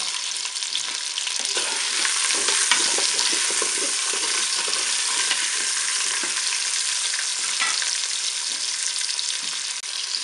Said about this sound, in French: je vais ajouter euh, mes morceaux d'oignon